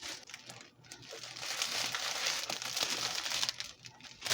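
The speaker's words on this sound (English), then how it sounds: "Gather the top of your cellophane." Clear cellophane wrap is gathered up and crinkled by hand around the top of a gift basket, giving a steady, close crackling rustle that swells and eases over several seconds with no talking.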